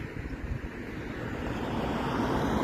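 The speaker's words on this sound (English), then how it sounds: "It's a windy day and today there's a forecast for some stormy weather." Wind blows in a steady rushing roar, building slightly louder toward the end, with no voices.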